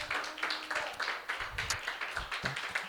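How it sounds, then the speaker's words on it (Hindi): A church congregation clapping for God during a Sunday sermon, a steady rhythmic series of hand claps, moderately faint with some room echo. "तालियां बजाए खुदावन के लिए"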